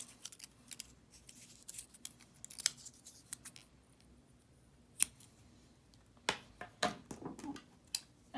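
Scissors snipping crochet yarn while finishing a beginner washcloth, a few quiet, sharp cuts close by with pauses between them in a calm room.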